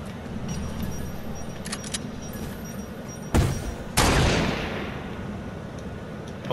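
Gunfire in the Fortnite video game during a Season 7 Invasion match, with one sharp loud blast followed half a second later by a second burst that trails off into a fading rumble over steady background noise.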